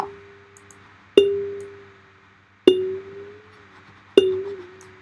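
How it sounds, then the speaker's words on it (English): A synthesized bell-like tone from clock-triggered audio nodes strikes three times at roughly even intervals, each a bright metallic ping that decays slowly into a sustained hum, heard alone and close. "It makes it like a bell sound for, you know, like meditational"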